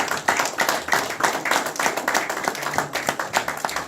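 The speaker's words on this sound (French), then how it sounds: "Acclamons très fort pour le Seigneur." A congregation at a church worship service claps together in a steady rhythmic beat, loud and close, with faint voices underneath.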